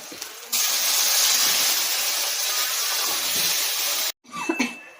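Masala and chili powder hit hot oil with a loud, steady sizzling hiss that runs unbroken for several seconds, then stops abruptly and returns as a fainter crackle, while a Karuvattu kuzhambu dried-fish curry is being made.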